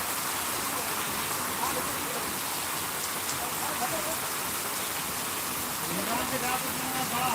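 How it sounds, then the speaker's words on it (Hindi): Heavy rain pours down steadily, a loud, dense hiss of drops on surfaces with no breaks, while someone talks over it at times. "एकदम जम के बारिश होती है, देख लिया।"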